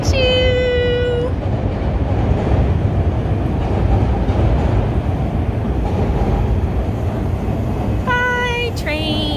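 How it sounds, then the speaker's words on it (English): A steady rumbling roar of a Chicago elevated L train passing close by, with a brief high tonal squeal at the start and again near the end. "It's the L train. Choo choo."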